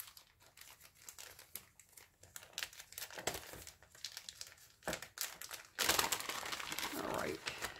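Crinkly plastic packaging of cardstock sticker sheets handled up close, intermittent crackles and rustles that build into a loud continuous crinkling burst near the end, with a voice talking quietly underneath.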